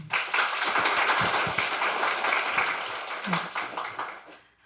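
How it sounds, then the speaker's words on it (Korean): An audience applauds after a speech at a youth climate conference session, with dense clapping that stays steady and then gradually fades out. A voice can be heard faintly beneath it. "큰 박수 부탁드립니다"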